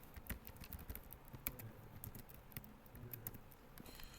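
Quiet clicking of keys as C++ code is typed on a computer keyboard, an irregular patter of soft close taps with no talk.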